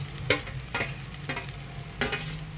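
Potatoes being stirred in a pan with spices for a dry potato bhaji, giving a few distinct scraping stir strokes over a steady low sizzle, close and alone with no talk.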